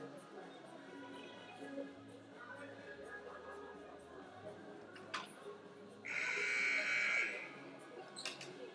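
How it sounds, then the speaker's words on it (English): A loud electronic buzzer blares for about a second over the murmur of a crowd in a large echoing gym at a college basketball game. "The buzzer has been rung"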